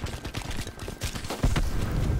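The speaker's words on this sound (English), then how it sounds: "We've got our cluster grenade." A cluster grenade going off in Call of Duty Black Ops 4, a rapid string of close, loud popping blasts that ends in a heavier boom.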